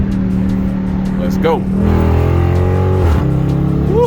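Dodge Charger R/T in sport mode, held in second gear around 40 mph, its engine revving up with a rising roar and gear-shift drops, loud and close while a driver talks over it.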